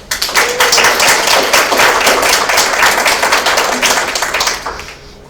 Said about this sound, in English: Let's please acknowledge with applause the library staff and especially its Managing Director, Angela Howell.